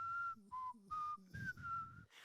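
A lone person whistles the opening guitar riff of a song, short clear tonal notes in a choppy stop-start rhythm, close and fairly quiet, with no talking.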